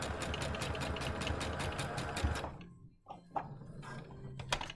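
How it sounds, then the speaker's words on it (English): Sewing machine stitching elastic onto a surgical-style fabric face mask, a close, rapid mechanical chatter for about two seconds, then it stops, followed by soft handling clicks and fabric shuffling. "So we're only gonna sew to about where my finger was."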